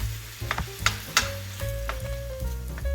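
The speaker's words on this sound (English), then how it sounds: "I have 2 pounds of ground meat here. I'm going to fry it up and drain the fat." Two pounds of ground meat fry in a pan with a close, steady sizzle, broken by repeated scraping and tapping strokes of a utensil stirring it.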